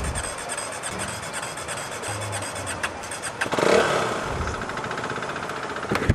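A motorcycle engine cranks and catches, then runs with an uneven, rattling idle and a brief louder rev midway. It sounds close and loud, with no talking over it.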